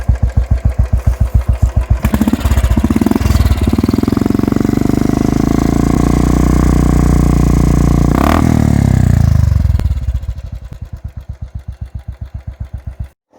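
A motorcycle fitted with a Red Rooster performance exhaust idles with a steady, close thumping beat, then revs hard and holds a loud roar for several seconds before dropping back to a lumpy idle. No one speaks.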